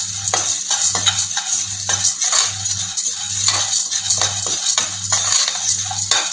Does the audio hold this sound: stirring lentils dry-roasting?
yes